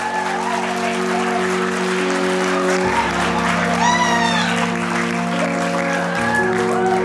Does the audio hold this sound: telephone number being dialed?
no